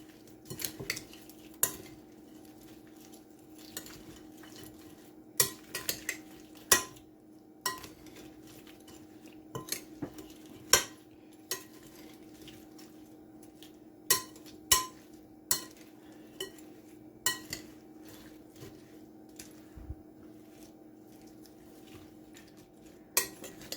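Shrimp being tossed by hand or spoon in a bowl of peppered marinade for Jamaican-style peppered shrimp, giving repeated clinks and scrapes against the bowl in an irregular rhythm over a low steady kitchen hum, close and moderate, with no talking.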